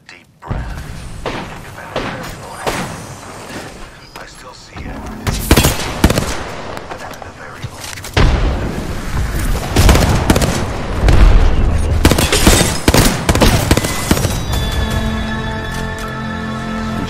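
Rapid automatic gunfire with heavy thumps and booms in the Apex Legends video game, loud, close bursts that intensify through the middle before fading under game sounds.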